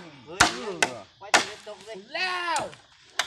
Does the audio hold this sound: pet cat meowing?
no